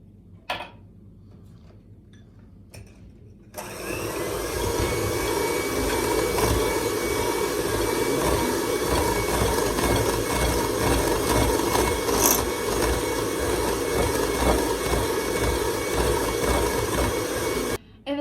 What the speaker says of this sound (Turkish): bir adet yumurta ve bir buçuk çay bardağı toz şekeri ilave edip iyice çırpıyoruz